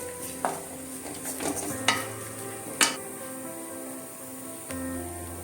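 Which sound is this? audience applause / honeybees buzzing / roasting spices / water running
roasting spices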